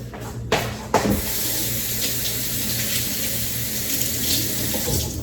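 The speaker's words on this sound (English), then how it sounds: "So I'm just gonna rinse it a bit." Raw fish is rinsed under a running kitchen tap, a steady close splashing stream of water into a sink with a couple of sharp knocks near the start.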